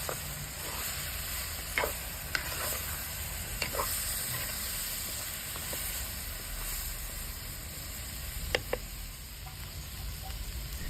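Young jackfruit mixture stirred in a pan with curry spice powder and four spoonfuls of roasted spice: steady sizzling hiss throughout, with a few sharp scrapes and clinks of a spoon against the pan.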